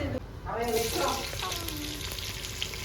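Fennel seeds, cinnamon and cloves sizzle in hot oil for a chicken biryani, making a steady, close crackling hiss that fills the whole moment, with a brief voice-like murmur near the start.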